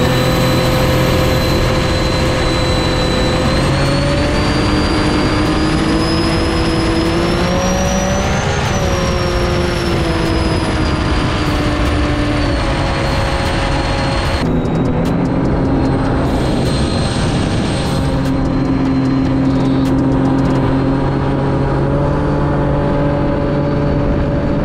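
A brand new 2022 Sea-Doo RXT-X 300 jet ski engine revs loudly and close, its pitch rising and falling as the RPM is varied, with a sharp drop in tone midway and a whining harmonic drone throughout.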